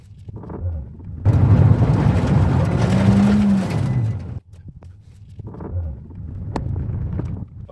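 A car on a short test drive while an OBD2 phone app logs data, with broadband engine and road rumble swelling loudly for a few seconds, dropping briefly, then resuming at a steadier level; no one speaks.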